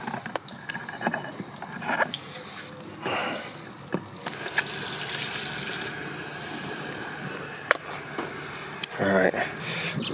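Water runs from an outdoor fresh-water tap, with a hose filling the fresh water tank of a Rockwood Geo Pro 19FBS travel trailer. A steady broadband rush rises in the middle and continues around scattered clunks and a voice speaking nearby.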